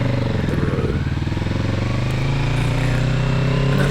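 A 2024 Kawasaki Z650RS with a 650cc engine revs on a ride along a country road, a steady, throaty engine note that rises slightly in pitch, heard up close.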